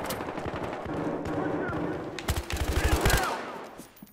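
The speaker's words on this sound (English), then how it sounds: "I'm just like shooting dead bodies." Battlefield Hardline gunfire: a close, loud burst of rapid automatic shots climbs toward the end after steadier firing and background battle noise, with a voice talking over it.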